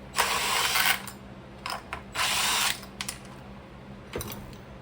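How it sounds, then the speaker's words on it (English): A ratchet wrench taking a nut off the fitting of an LED light, heard as several separate bursts of rapid clicking ratcheting, close and fairly loud, with short pauses between them. "take the other nut off"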